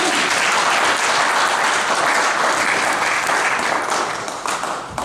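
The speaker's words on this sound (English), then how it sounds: "Clap for Jesus." A church congregation clapping during an evangelism service, loud and sustained massed applause from close by that eases off slightly near the end.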